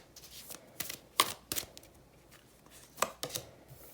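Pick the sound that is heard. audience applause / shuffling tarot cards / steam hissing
shuffling tarot cards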